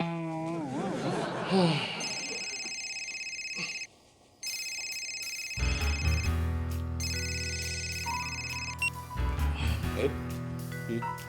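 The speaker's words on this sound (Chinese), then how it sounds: "你手机响了" A mobile phone ringtone plays a repeating electronic melody, drops out for a moment, then starts again, loud and close.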